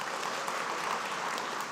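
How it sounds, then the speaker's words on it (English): Brief, fairly quiet applause follows the final speaker at a high school debate round in Wabag, a steady wash of clapping from the audience. "Round of applause for the final speaker of Sete Abal Secondary, Nathan Muli."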